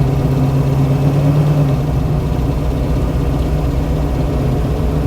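A 1968 Chevrolet Camaro's engine drones steadily and loudly from inside the car while driving, a constant low rumble with no voices.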